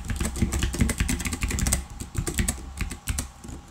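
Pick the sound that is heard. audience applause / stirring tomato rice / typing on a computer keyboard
typing on a computer keyboard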